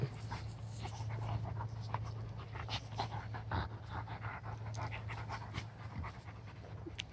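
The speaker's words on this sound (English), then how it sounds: "Do you see Hank snarling" Two dogs, brothers, play fighting up close, with steady heavy panting running throughout and scattered short snarls and growly scuffling on top, with no talking.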